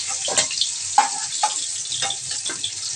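Slices of pointed gourd sizzle in hot mustard oil in a pan, a soft continuous frying hiss broken by several brief bursts of louder spattering and scraping as the pieces are turned and lifted out.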